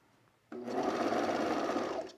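A sewing machine runs in one steady, loud burst while stitching pajama pants, starting abruptly after a brief quiet moment and holding an even whirring drone to the end.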